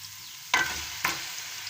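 Mutton pieces drop into a hot pan of sautéed ginger, garlic and spices, setting off two loud bursts of sizzling a half-second apart that settle into a steady fry.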